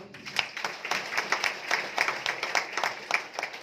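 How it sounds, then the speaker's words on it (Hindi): A crowd at a celebration event in Shirdi claps in scattered, uneven bursts, the individual hand claps fairly close and moderately loud against low room murmur. "एक बार एक आरसीएम के लिए जोरदार ताली बजाओ।"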